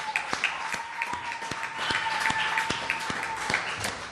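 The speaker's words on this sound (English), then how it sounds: "Can we give a round of applause to the New Salem folks?" Sustained audience applause at a community dinner, steady clapping from a room full of people filling the whole stretch, with a faint tone running underneath.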